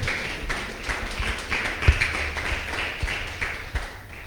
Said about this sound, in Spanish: Denle palmas al Rey.